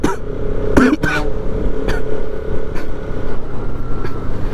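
A Bajaj RS200 motorcycle engine drones steadily while riding, a loud continuous hum with wind rumble, punctuated by a few brief sharp bursts near the start, close and alone without talk.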